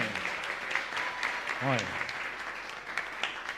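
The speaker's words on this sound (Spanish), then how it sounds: "Un fuerte aplauso para estos jóvenes." A church congregation at Mass in a chapel in Lambaré applauds young people, a steady wash of clapping with a voice speaking briefly over it.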